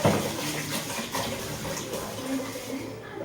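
Water pours steadily into a container for a few seconds, splashing softly and fading slightly at the end.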